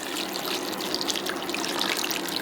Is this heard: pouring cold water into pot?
yes